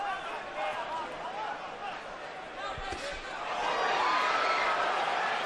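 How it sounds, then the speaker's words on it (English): Arena crowd at a Canelo Alvarez vs. Amir Khan boxing fight, a dense roar of voices swelling louder toward the end as the audience reacts to a landed left, with commentary talk running over it. "Crowd oohs and ahs as again Canelo lands the left"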